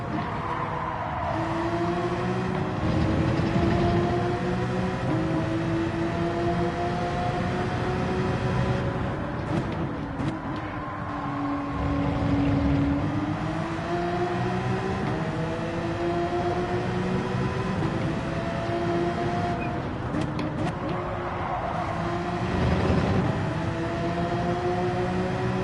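A racing car's engine in Gran Turismo 7 on PS5 with PSVR 2, close behind, its whine repeatedly rising and falling through gear changes, steady and fairly loud throughout.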